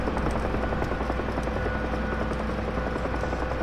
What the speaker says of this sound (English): I'm gonna land on this helipad right here.